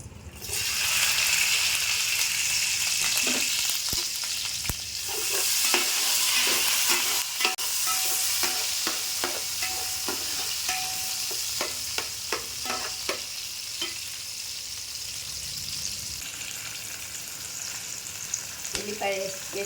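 Onions sizzling in oil in a pan for red lentil and rice khichdi, a strong close hiss with repeated spatula scrapes and taps that soften toward the end.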